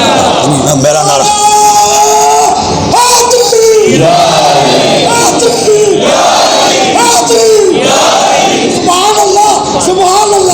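A crowd chants a religious slogan in loud, rhythmic call-and-response bursts at a religious gathering, voices swelling together in repeated shouted waves close to the listener.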